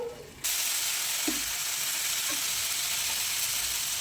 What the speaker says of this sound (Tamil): நல்லா வதக்கி விட்டுருங்க. நல்லா கிளறி விட்டுட்டு ஒரு 10 நிமிஷத்துக்கு மீடியம் ஃப்ளேமில் வச்சு